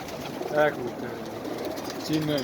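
Pigeons at a loft give a couple of low, rolling coos nearby, one early and one near the end, beneath ongoing male conversation.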